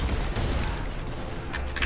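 Gunfire in the Roblox shooter Arsenal, a dense rattle of rapid shots crackling throughout, close and harsh.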